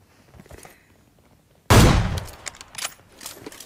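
Gunfire in PUBG Mobile played on an 8th-generation iPad: after a quiet stretch, a loud, close burst of rapid shots erupts, then trails into scattered, fainter follow-up shots.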